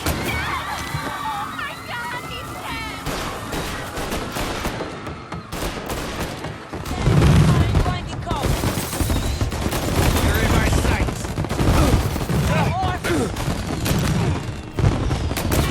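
Fireworks in the video game Mafia: Definitive Edition: a dense run of popping and crackling bursts builds after a quieter opening with game chatter, then keeps going as a loud, sustained barrage with booms and splashing water mixed in.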